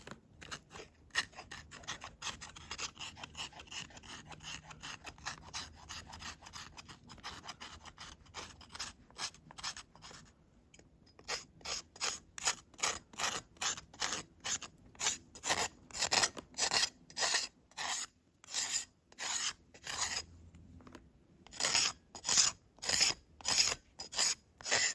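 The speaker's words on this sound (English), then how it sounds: "I'm going to use the back of my saw here to process the bark down" Bark scraped in the forest with the back of a saw, a steady series of rasping strokes, close and rhythmic, growing louder and more regular after a short pause.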